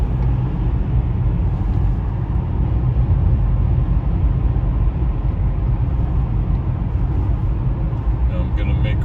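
A car accelerates along a snowy road, giving a steady, close, low engine and road rumble that holds at an even level throughout.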